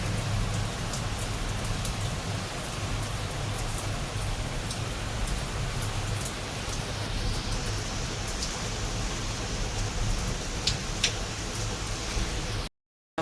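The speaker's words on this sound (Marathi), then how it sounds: "मस्त असा जम्मूमध्ये पाऊस पडतो" Steady rain pours down in Jammu, a dense, even hiss that continues unbroken for the whole stretch, with no voices.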